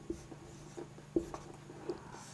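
Marker or chalk writing a vector on a classroom board, a few short scratchy strokes with quiet pauses between them and no talking.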